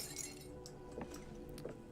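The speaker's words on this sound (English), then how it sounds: "Walking on broken glass." Footsteps crunching over broken glass in the video game Hello Neighbor 2, a few scattered clinks and crackles over a steady game background hum.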